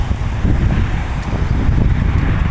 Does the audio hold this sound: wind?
yes